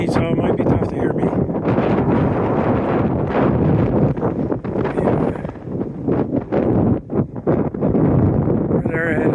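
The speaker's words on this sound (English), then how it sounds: "It's windy, so it might be tough to hear me." Heavy wind buffets the microphone in continuous rumbling gusts on Mount Moosilauke, with a voice talking underneath.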